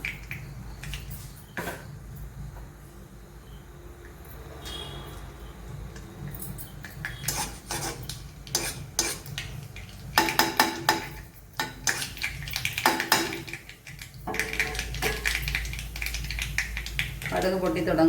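Mustard seeds land in hot oil in a pan and start to crackle and pop in sharp clusters of bursts, mixed with metallic clinks of utensils against the pan. A person talks at times.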